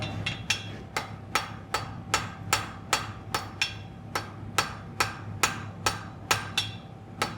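A blacksmith's hammer strikes hot metal to forge a weld, ringing out in a steady, evenly spaced series of sharp, loud clangs, roughly two per second, close by with no voices.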